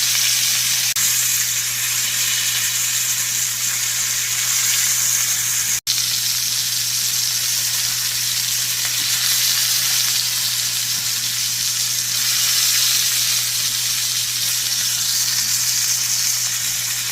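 Steak sizzles in a cast iron pan with a loud, continuous hiss and crackle that holds steady throughout, broken once by a brief click, and nobody speaks.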